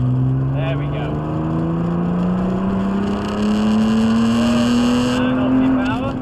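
A supercar accelerates at full power around a race track, its engine note climbing steadily in pitch over a continuous loud roar, with an instructor's voice speaking over it.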